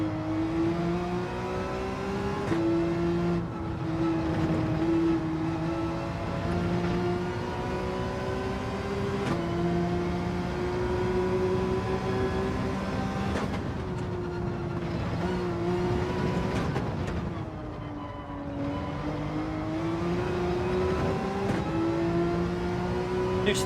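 Race car engine in Gran Turismo 7 holding a loud, steady droning whine that rises and dips as the car slides through drifts, continuous and close with no talk.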